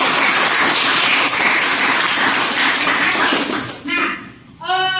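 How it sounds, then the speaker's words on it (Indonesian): Students in a classroom clap for a student group, a dense burst of applause that fills about four seconds and then fades. Children's voices chatter as it dies down and are heard again at the very end. "Tepuk tangan dulu untuk 9."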